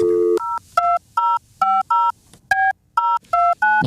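A phone being dialed: a quick series of about nine touch-tone beeps in an even rhythm, each short and clear, heard alone without talk.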